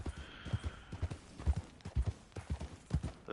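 Horse hooves clip-clop in the video game Red Dead Online in a brisk, even rhythm of close, moderately loud thuds across a few seconds.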